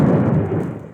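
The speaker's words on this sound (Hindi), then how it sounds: "जब बादल गड़गड़ाते हैं, बिजली कड़कती है" Deep, steady thunder from a storm rumbles loudly and continuously, with a broad low roar that fades slightly toward the end and no voices.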